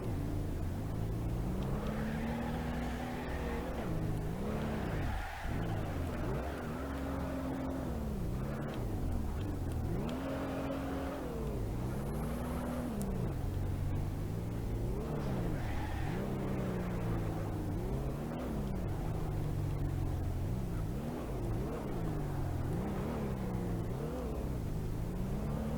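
Car fitted with a Ford 6.3L V6 engine in BeamNG.drive, the engine revving up and down repeatedly in long rising and falling sweeps, steady and moderately close, with no talk.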